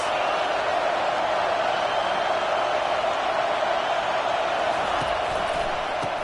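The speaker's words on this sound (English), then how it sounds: "This crowd trying to make life miserable for this offense." Loud, steady roar of a stadium crowd at a college football game between Clemson and Miami in a video game, a continuous dense wash of noise with no breaks.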